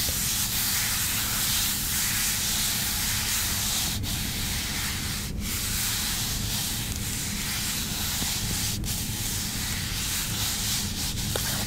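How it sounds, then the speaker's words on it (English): Continuous close rubbing on a surface, a steady broadband friction texture with a few brief sharper scrapes along the way, no voice. "that's a nice rubbing sound"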